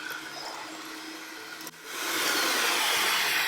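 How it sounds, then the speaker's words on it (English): Electric hand mixer beating red velvet cookie dough on low speed, a steady whirring drone that dips briefly and then grows louder and denser as the beaters dig into the dough, with no talking. "We're gonna make sure to beat it on low."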